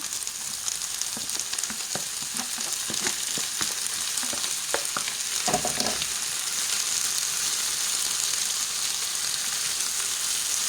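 Continuous close sizzling of small wild mushrooms frying in a pan, with scattered scraping and stirring sounds over the steady hiss.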